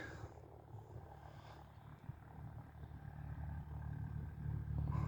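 Tractors work a wheat field at sowing time, a low steady engine drone from a distance that builds slightly toward the end.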